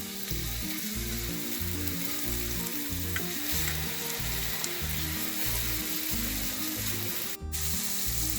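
Whole spices, cashew nuts and onions fry in oil, a loud continuous sizzle up close with a pulsing rhythm of stirring underneath and one brief sharp scrape near the end.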